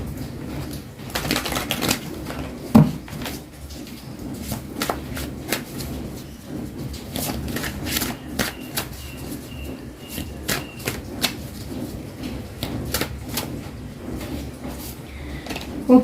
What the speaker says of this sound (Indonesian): kita cek sekarang dengan kartu tarot untuk pesan hari ini